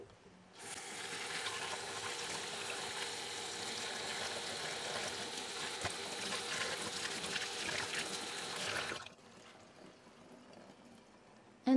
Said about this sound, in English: we'll just rinse that off and it should be fine